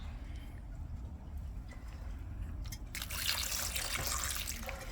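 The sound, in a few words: water poured onto tumbled rocks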